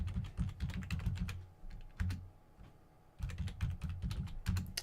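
Password typed on a computer keyboard in a remote session, close rapid bursts of key clicks in two runs separated by a short pause, with no talking.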